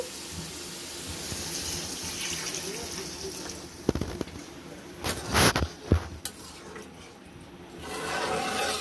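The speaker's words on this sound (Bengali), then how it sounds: "কষানো হয়ে গেছে, এবার দিয়ে দিব পানি।" Water is poured into a hot pot of browned goat meat, bursting into loud hissing sizzles and splashes midway after a quieter stretch of soft frying.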